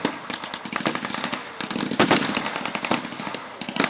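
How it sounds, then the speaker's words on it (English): An M42 German machine gun firing from a Hanomag half-track, heard as a rapid crackle of bursts that keeps up for four seconds with short breaks, loud and fairly close. "We can hear the crackle of that M42 German machine gun on the Hanomag half-track."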